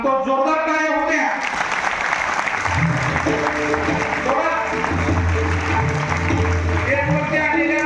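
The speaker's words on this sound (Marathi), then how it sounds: "एक वरती आलेल्या जबाबदार व्यक्तिमत्वासाठी या टाळ्या कमी आहेत" Audience clapping at a state-level award ceremony for a junior IAS competition, sustained loud applause throughout with someone speaking over it on a public address system.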